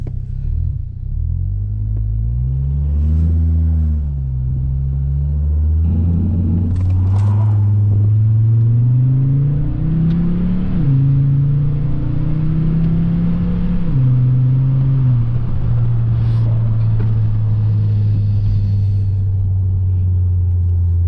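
A 2007 Volvo S40 T5 drives with a loud, close engine drone that rises and falls as it revs and shifts, a steady low rumble throughout with no talking.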